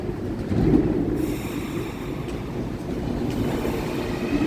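A train rolls past at close range, a loud, steady rumble and clatter of railroad cars that holds throughout with no talk over it.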